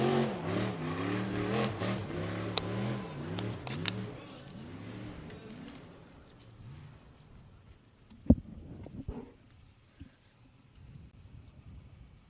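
A racing engine throttles on an outdoor course, its rising and falling revs loud at first then fading into wind noise, with a few sharp knocks and thumps later as it moves away.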